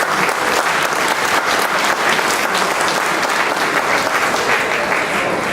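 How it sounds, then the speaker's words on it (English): Sustained, dense applause from a seated crowd at a gala dinner at Swept Away in Negril fills the room evenly, loud and continuous with no break. "A round of applause, ladies and gentlemen."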